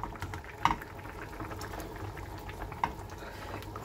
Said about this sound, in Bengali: দুরা ঝোলটা আমার ফুটে এসেছে।